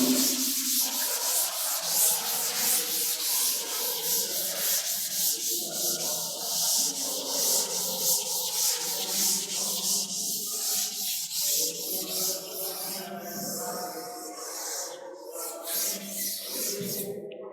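A classroom board rubbed clean during a science lecture, a long continuous scrubbing with rapid back-and-forth strokes, close and fairly loud, and no one speaking.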